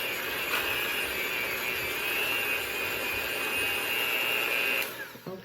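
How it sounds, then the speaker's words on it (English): Electric hand mixer beats three eggs and yolks into fudgy brownie batter, a loud steady motor whine droning unbroken for about five seconds before cutting off abruptly. "Okay, I have my hand mixer."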